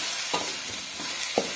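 Cauliflower and onion hiss and sizzle in a hot pan during stir-frying, with a steady crackling bed broken by a couple of soft stirring scrapes.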